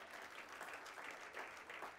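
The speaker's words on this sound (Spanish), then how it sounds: "Dale palmas al Señor." A church congregation claps together during a worship service, a steady, dense wash of applause lasting the whole moment, moderately close and with no voices above it.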